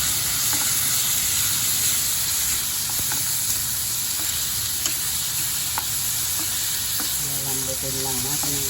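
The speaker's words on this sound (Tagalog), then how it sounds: "Nilagay na natin ang ating pork." Pork hits hot cooking oil in a pan and fries with a loud, continuous sizzle and hiss, with occasional stirring clatter; a voice speaks briefly near the end.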